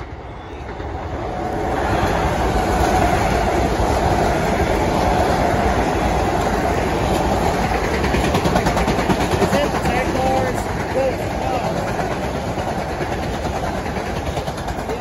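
An M7 commuter train passes at Farmingdale with a loud, close, sustained rumble and rhythmic clatter of wheels on rail lasting most of the stretch before easing slightly.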